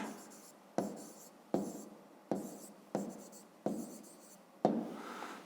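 Handwriting an answer on paper, close, soft scratchy pen or pencil strokes in a series of short bursts, each starting sharply and trailing off, quiet and without talk.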